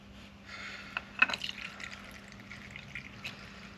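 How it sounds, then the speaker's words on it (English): Kerosene trickles and splashes through a small funnel into the tank of a vintage pressure stove, a soft steady liquid pour with a few faint drips and clinks, close by and quiet, with no talk. "Pour some fuel in there."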